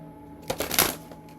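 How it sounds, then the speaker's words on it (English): A short, soft riffle of a deck of cards being shuffled, one brief burst of papery flutter rising and fading in a quiet room. "I'll shuffle 4 more times."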